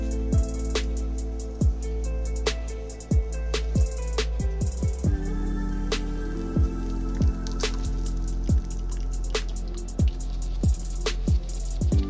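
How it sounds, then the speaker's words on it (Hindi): Steady drips and soft splats of whey draining from fresh paneer through a cotton cloth, irregular and close, with a faint background hiss; no voices. "इसका पानी हम थोड़ा निकाल के"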